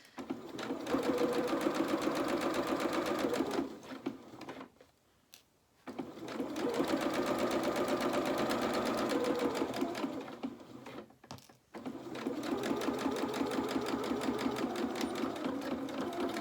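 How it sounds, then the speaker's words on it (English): A sewing machine stitching a French seam with a straight stitch, running in close, steady bursts of rapid mechanical clatter with two short pauses between runs. "we're just going to sew this seam down here"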